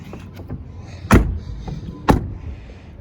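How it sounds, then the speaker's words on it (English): Two solid car door thuds on a 2001 Chevrolet Suburban K2500, about a second apart, each a sharp low slam over quiet background. "all the doors close nice"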